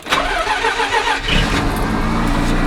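A car engine cranks for about a second, then catches and settles into a steady, loud idle.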